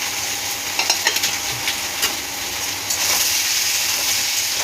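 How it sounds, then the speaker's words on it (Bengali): Food being stir-fried in a pan while it is cooked down thoroughly, with steady close sizzling and hiss and a few louder scraping stirs, no voices. "ভালো করে কষে নেবো।"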